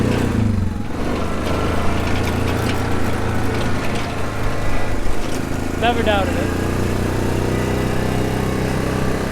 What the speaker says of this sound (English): I got the ladder on the four-wheeler running sideways